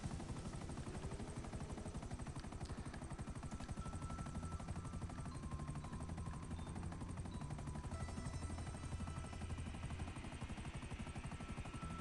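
Helicopters in the GTA Online video game, a steady dense rotor and engine drone running the whole time with gunfire-like crackle mixed in, loud and continuous.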